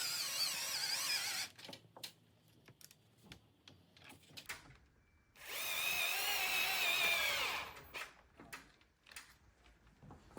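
Close power drill spins in two long bursts driving screws into plastic on a Herman Miller Aeron chair, with scattered taps and clicks of handling between them.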